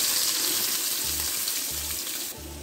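Sliced onions for a beef biryani masala fry in a pan with a loud, steady, close sizzle, broken by a few soft low thumps at regular intervals; no one talks.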